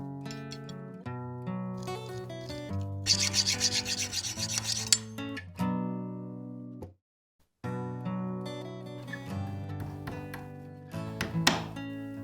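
Bicycle badge rivets being shortened, rasping strokes of filing or rubbing over a steady musical background, with a busier burst of scraping in the middle and a brief silent gap.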